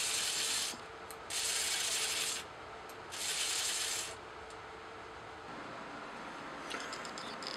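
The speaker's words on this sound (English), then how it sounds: "I think I'm just gonna hit that with a file." A hand file works a cast metal crank casting, giving three close rasping strokes of about a second each, separated by short quiet gaps, then a faint lighter scrape at the end.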